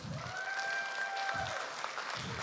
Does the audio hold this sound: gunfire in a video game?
no